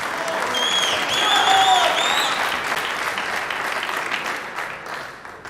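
Packed crowd at the US Open Pool Championship quarter-finals bursts into applause and cheers after a made shot, with shrill whistles early on, then tapers to steady clapping.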